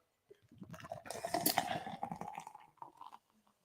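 Alpine Beer Co. Duet IPA is poured and foams up in a short, quiet burst of fizzing and liquid splashing that lasts about three seconds.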